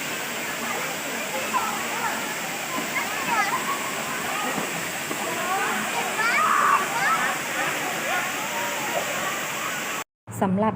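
A seven-tiered waterfall in Kanchanaburi, Thailand pours in a constant, full rushing roar, with voices chattering faintly over the water throughout.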